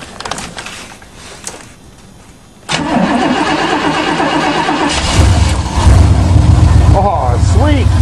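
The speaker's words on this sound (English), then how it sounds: "another Chevy motor. Running perfect." A Chevy car engine cold-starts in winter, cranking and catching after a quiet pause, then settles into a steady, loud running rumble that swells slightly as it revs.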